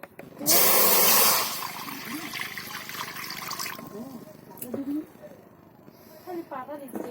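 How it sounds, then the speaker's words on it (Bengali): Water poured into a wok for a bottle-gourd leaf dish, a loud splashing gush at first that settles into a softer trickle, with a voice talking throughout. "তো আগে কড়ার মধ্যে আমি জল দিয়ে দেবো।"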